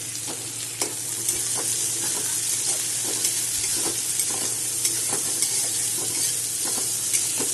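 Potatoes fry in a pan with chopped onion, green chillies and a little salt, giving a steady close sizzle broken by regular scraping knocks of stirring, with no voices.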